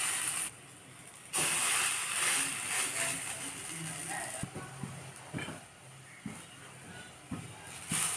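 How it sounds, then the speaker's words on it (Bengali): White cooking oil heating in a hot wok on a gas flame, ready for fish-roe fritters, gives a steady close hiss with scattered crackles and small clicks, dipping briefly near the start. "কড়াই গরম হয়ে গেছে, এবার আমি তেল দিয়ে দেবো, সাদা তেল।"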